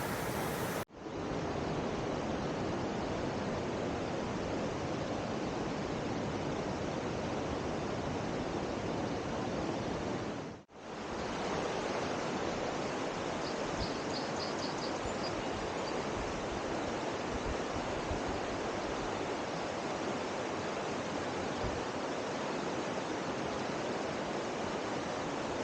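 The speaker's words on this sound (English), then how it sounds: "You can see the waterfalls behind you, just cascading down." Waterfalls and cascades on the New River at Sandstone Falls give a broad, constant roar of rushing water that stays loud and unbroken throughout, heard close from the edge of a boardwalk.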